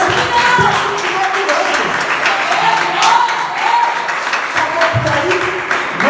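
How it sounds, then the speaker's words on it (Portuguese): Church congregation applauding steadily throughout, a dense wash of clapping with faint voices and shouts mixed in. "Você pode aplaudir o seu nome de Jesus?"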